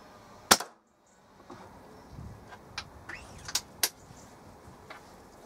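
A Weihrauch HW97 spring air rifle with a replaced spring fires a JSB pellet, giving one sharp, loud crack followed by a brief abrupt silence and then several fainter clicks and knocks.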